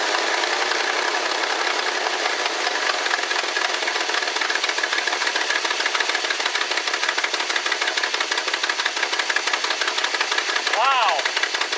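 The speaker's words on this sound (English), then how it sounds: "We'll turn the key and see if it fires up." A 1969 Lincoln Mark III engine runs as a dense, rapid mechanical clatter and steady roar, loud and close, holding an even level throughout, with a brief rising whine near the end.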